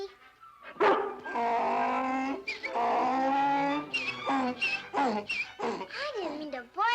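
A cartoon dog barks and yips in a series of loud, close, pitched barks with whimpering inflections, a voice performer imitating the dog.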